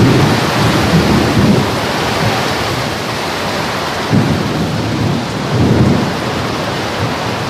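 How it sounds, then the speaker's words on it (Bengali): Heavy midday rain pours steadily in a broad loud roar, with low thunder rumbles swelling underneath a few times, no voices. "এই সময় বৃষ্টিটা কি জোরে পড়ছে দেখুন"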